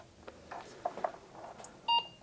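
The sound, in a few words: old computer beeping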